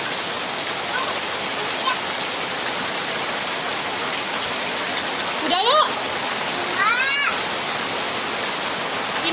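Heavy rain pours down in a steady, dense roar close by, with a few brief voices speaking over it.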